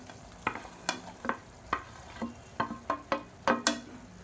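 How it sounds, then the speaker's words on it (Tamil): Sautéed okra stirred into a curd gravy in a pan, with about a dozen sharp spoon scrapes and clinks in an uneven rhythm over a soft background sizzle, close and fairly quiet. "இப்போ நம்ம வதக்கி வச்சுருக்க இந்த வெண்டைக்காயை சேர்த்துக்கலாம்."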